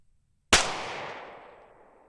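A single sharp report from a Glock 43X 9mm pistol fired at a target outdoors, breaking out of silence and ringing off in a long fading tail.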